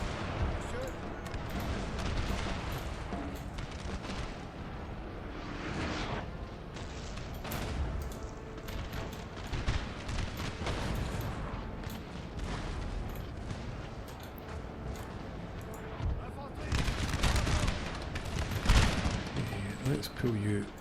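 Massed musket volleys crackle and boom from an infantry square in the Napoleonic strategy game Napoleon: Total War, with dense overlapping gunfire running throughout and heavier bursts near the end, with a voice talking over it.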